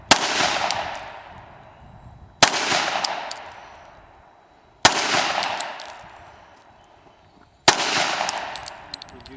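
Four single gunshots from a Hi-Point JCP carbine crack out a couple of seconds apart, each sharp report trailing off into a long ringing echo across an outdoor range.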